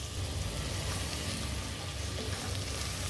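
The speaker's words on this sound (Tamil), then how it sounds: "காய்கறியை நல்லா வதக்கிக்கலாங்க" Beans, potato and green peas sauté in a pan for a Karnataka-style saagu side dish, giving off a steady, even sizzle. The hiss is fairly quiet and unbroken, with no talking.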